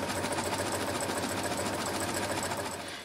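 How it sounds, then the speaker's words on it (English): A sewing machine stitches steadily along a grill apron, its fast, even mechanical whirr and rapid needle clatter continuous and close for the whole stretch, with no talking. "Then you're just going to keep sewing."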